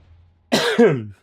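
A single close, loud cough from a man, a short two-part burst lasting about half a second.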